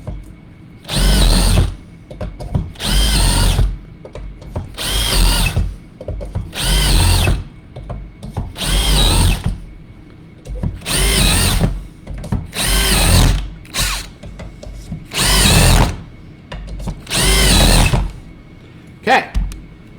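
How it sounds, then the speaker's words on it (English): A power drill bores mounting holes through a ski, in about nine separate loud bursts of whining, biting drilling, each lasting a second or two, separated by short pauses of quiet; no one speaks. "right when you bite through, you can come out of the ski"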